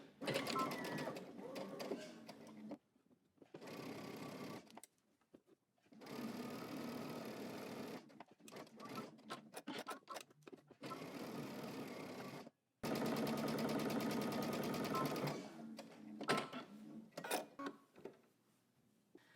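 A sewing machine back stitches a seam, running in several loud, steady bursts of rapid mechanical stitching separated by short pauses.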